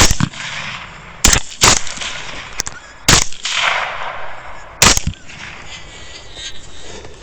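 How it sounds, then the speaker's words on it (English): Several loud, sharp rifle shots crack out during a hog hunt outdoors, sharp reports spaced a second or two apart, with a quieter pop in between and faint outdoor ambience in the gaps. "I'll be shooting a hog on the left."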